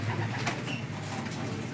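High flyer pigeons cooing softly through a constant background hum, low and fairly faint, with no voices heard.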